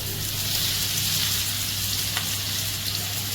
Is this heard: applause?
no